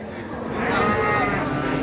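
A large cow lowing at a cattle market in Tuban, a single long, loud, close moo rising and holding for over a second.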